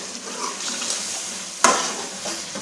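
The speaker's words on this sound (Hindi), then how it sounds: "और अच्छे तरीके से मिक्स करेंगे" A spoon works through chicken matar in a pot amid a soft sizzle, with faint scraping and one sharp clink of metal against the pot, close up and without speech.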